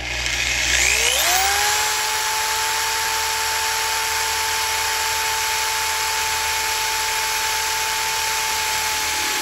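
A drill whines up to speed and holds a steady high-pitched tone, close and loud, running continuously while drilling into a Honda Civic hatchback's floor for shifter bolts.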